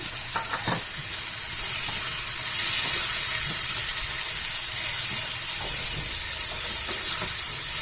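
Crumbled paneer stirred and fried in a hot pan for paneer bhurji, a steady loud sizzle with occasional scraping clicks of a spoon, close and continuous throughout.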